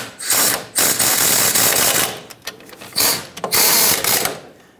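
A ratchet tightens the front brake caliper slider pin bolts on a 2007-2014 Chevrolet Silverado 2500 HD, rapid close clicking in several bursts separated by brief pauses.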